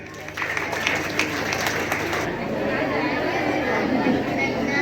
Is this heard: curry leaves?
no